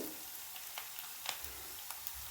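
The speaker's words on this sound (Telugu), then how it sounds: "బాగా వేగనివ్వాలి మసాలా ఇది మొత్తం ఆయిల్లో వేగిపోయింది కదా" Spice masala paste of cumin, ginger and garlic fries quietly in oil in a pan, making a faint, even sizzle with a few soft scrapes of the spoon.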